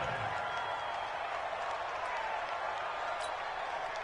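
Steady stadium crowd roar from an American football video game on PS4, with the Jaguars on the field, forming a continuous, even wash of distant crowd noise throughout.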